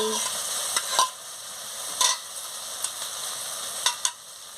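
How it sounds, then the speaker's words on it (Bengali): Cardamom, cinnamon, cloves and capsicum are stir-fried in a pan for a paneer curry. A soft, steady sizzle is broken by about six sharp scraping strokes of a spatula, and no one talks. "মশলাটাকে ভালো করে কষিয়ে নিচ্ছি"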